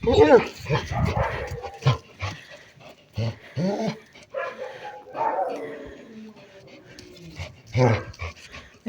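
Dogs yip and bark in short bursts close by, with whining between, while people talk and call out over them.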